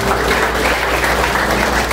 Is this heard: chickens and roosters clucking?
no